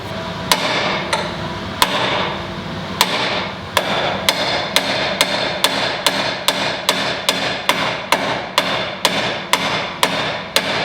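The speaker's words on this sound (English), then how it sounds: "take a hammer and just whack it until it pops out" Sharp metallic hammer strikes on a Jeep steering drop arm ring out one after another, loud and close, settling into a fairly steady rhythm of repeated blows.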